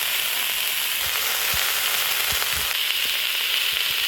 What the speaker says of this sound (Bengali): এবার কেটে ধুয়ে রাখা আলু, বেগুন, শাকটা দিয়ে দেবো।